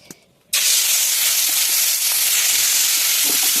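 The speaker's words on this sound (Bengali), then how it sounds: "এদিকে তেল গরম হয়ে গেছে, চলো এবার মাছটা ভেজে নিই।" Chital fish drops into hot oil after a brief quiet moment, setting off a loud, steady sizzle and hiss that holds close and continuous to the end.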